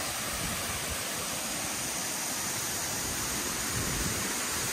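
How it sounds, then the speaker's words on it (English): Chirilla Falls on the Sunshine Coast Great Walk pours down into a valley, a steady, even rushing roar of water heard close and alone without voices. "What a spot, eh? Chirilla Waterfalls."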